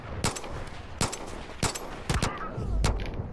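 Gunfire in the video game Far Cry 5 while shooting at a sniper, with about six sharp gunshots spaced irregularly, close and loud, and no talk.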